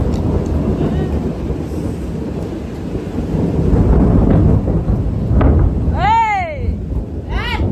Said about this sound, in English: I'm scared of thunder